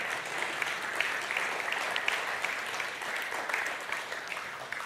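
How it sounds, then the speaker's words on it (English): An audience at a Third Age community update meeting claps steadily in a dense, even round of applause that holds from start to finish with no break. "I think Jeanette deserves a round of applause for everything that she's doing."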